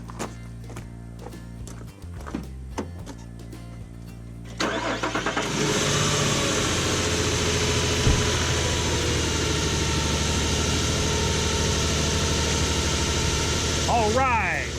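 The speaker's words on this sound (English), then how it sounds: "Put the lid on and start the engine." A 2007 Nissan Xterra engine cranks, catches and settles into a steady, loud idle that runs on close by after a few quieter moments at the start.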